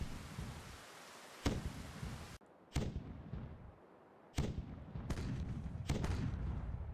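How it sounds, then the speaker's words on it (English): Naval cannons fire cannonballs from a ship in the pirate video game Caribbean Legend, several loud booming shots at irregular intervals with rumbling tails over continuous game ambience. "So we're going to use cannonballs. Where's the ships? Okay, right there. Fire."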